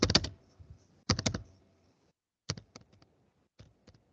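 Keystrokes clatter on a computer keyboard while regedit.exe is typed into Windows 10, three quick bursts of close, crisp clicks separated by short pauses, with no talk.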